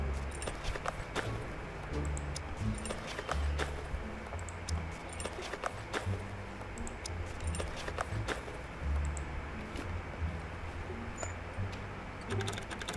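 Lock picking in the SCUM survival game gives faint, scattered metallic clicks and ticks over a low steady background hum, with no talking.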